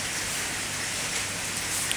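Steady rain pours during a rainy spell, a dense, even hiss of drops on surfaces that stays constant and fairly loud throughout, with no voices.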